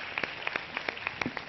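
An audience claps to welcome a guest onto the stage at a Ramadan iftar television show. The claps are sparse, fairly even and moderately near, with no talking.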